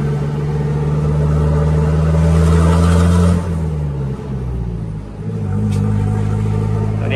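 A car fitted with a loud, heavily modified aftermarket exhaust rumbles and revs close by on a road, a steady deep drone that swells, dips briefly mid-pass and then picks back up.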